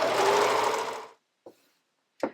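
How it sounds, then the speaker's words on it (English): A home sewing machine runs a zigzag stitch through camisole fabric in a steady, loud buzzing burst for about a second, then stops, followed by two short mechanical clicks. "I always like to add an extra row of zigzag stitching, just about 1/4 of an inch above my initial stitching line."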